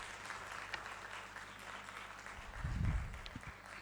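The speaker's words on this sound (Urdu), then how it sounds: "ایک بار پھر بھرپور تالیاں ہونی چاہیے." Faint, distant applause from an audience at a conference event in Pakistan, a steady wash of clapping with a low thump near the end and no speech over it.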